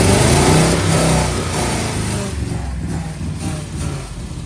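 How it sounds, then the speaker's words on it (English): Engine on a custom project vehicle with a carburetor fuel problem revving and then sagging as it bogs down, loud and close, with uneven low rumble and no talk. "see, it's bogging down. It's not getting enough fuel, or it's overloading on fuel"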